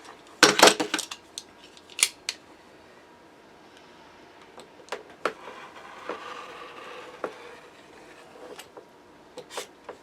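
Scissors trim sublimation paper for a tumbler: a cluster of sharp, close snips at the start, then scattered single cuts and soft paper rustles against a quiet background.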